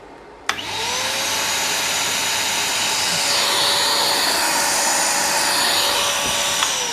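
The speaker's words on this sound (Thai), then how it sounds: "ใช้กับเครื่องดูดฝุ่นนะครับ ใช้งานได้ ปกตินะครับ" A vacuum cleaner powered by a hybrid inverter switches on with a sharp click and then runs with a loud, steady motor whine and airflow roar that holds for several seconds without speech.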